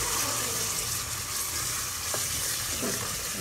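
Minced keema fries loudly in a pan, a dense, continuous sizzle up close with faint stirring scrapes and no voices.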